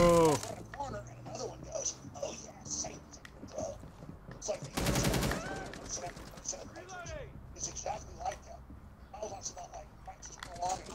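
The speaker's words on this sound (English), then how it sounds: "I'm gonna shoot him." Gunfire in Rainbow Six Siege, with rapid bursts of automatic fire and scattered single shots, including one loud close burst in the middle, mixed with game effects and intermittent voices talking.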